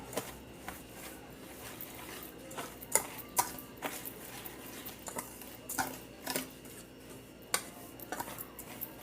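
Dry ingredients for kutsinta are stirred in a bowl, with soft, faint scraping and irregular light clinks of a utensil against the bowl throughout.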